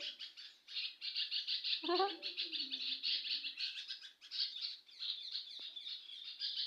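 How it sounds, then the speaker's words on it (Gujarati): Sparrows squabble close by in a busy stream of shrill chirps and harsh squawks that barely pause, with a brief lower gliding call near the start. "ચકલાઓને બાંધવાનું થયું"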